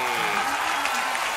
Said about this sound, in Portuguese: Uma salva de palmas pra ele, senhoras e senhores